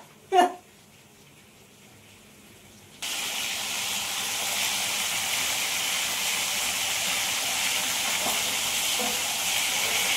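Pieces of pomfret sizzle in a frying pan after a brief knock, a steady loud hiss of frying fish that begins about three seconds in and carries on unbroken, with no speech.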